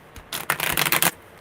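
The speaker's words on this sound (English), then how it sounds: "Good shuffle." Tarot cards are shuffled during a live one-card reading, in a single quick riffle burst of close, crisp fluttering that lasts under a second between quiet pauses.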